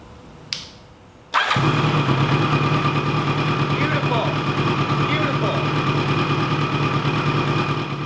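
A 1986 Kawasaki GPZ1000RX motorcycle engine cranks briefly, then catches and settles into a loud, steady idle that carries on close up.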